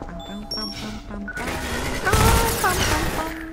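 Gunfire in the video game Half-Life 2 crackles in a rapid burst of shots and impacts after some beeping game sounds, loud and close with a voice briefly heard.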